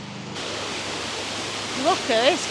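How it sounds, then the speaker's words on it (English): A water feature in a town square in Zaragoza, Spain, splashes with a steady broadband hiss of falling water, moderately close, with a dog's brief whimpers or sounds near the end. "Look at this cool water feature at the other end of the square."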